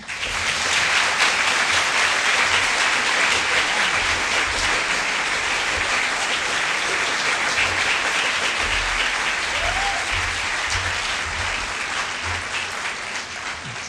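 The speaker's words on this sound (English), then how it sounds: "May you please have a round of applause for the Honorable Mayor Cory Booker" An audience gives Mayor Cory Booker a loud, sustained round of applause at a talk on college affordability, a thick wash of clapping that holds steady for about fourteen seconds and eases slightly near the end.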